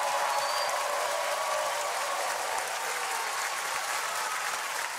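A live concert audience at a French music show breaks into thick, continuous applause that stays loud and even throughout the five seconds, with no voices standing out.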